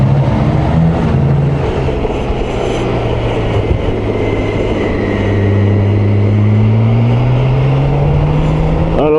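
A 2022 BMW K1600GT touring motorcycle accelerating along a road, its engine note climbing steadily in pitch through the gears, loud and close with heavy wind rush throughout.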